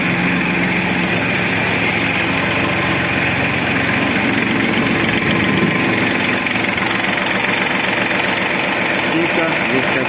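An Iseki TF-223 Japanese mini tractor engine idles steadily, a smooth, even drone that holds a constant level for the whole stretch with no revving or knocking.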